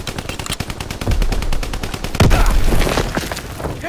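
Loud, dense automatic gunfire from a Call of Duty: WWII team deathmatch on the Shipment 1944 map, rapid bursts overlapping with heavier booming shots in a continuous barrage.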